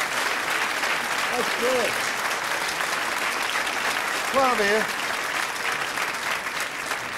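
A television studio audience claps steadily and loudly for a school band the whole time. A man's short encouraging remarks are heard over the applause.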